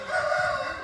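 A rooster crows once among farm chickens, a short, loud, harmonic call lasting under a second, close by with no talk over it.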